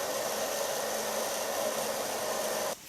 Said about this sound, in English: Okay, we dried the hair